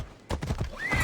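A horse in Assassin's Creed Odyssey clip-clops a few hoofbeats close by and then lets out a rising whinny, all loud and clear with no talking.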